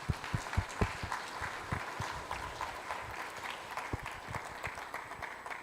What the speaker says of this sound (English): So huge round of applause for the organizers.